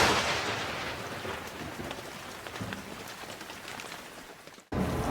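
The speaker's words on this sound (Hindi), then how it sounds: "अब देखो ये जो बिजली कड़क रही है" Thunder from a lightning storm rolls as a loud, broad rumble over steady rain, slowly fading before cutting off abruptly and resuming.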